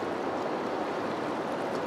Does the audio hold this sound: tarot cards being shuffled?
no